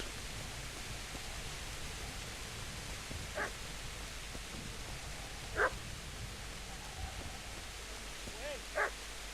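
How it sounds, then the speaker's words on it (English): A dog barks in the video game Kingdom Come: Deliverance, a few short, faint, sparse barks spread out over a steady hiss of background noise. "Dog barking down here."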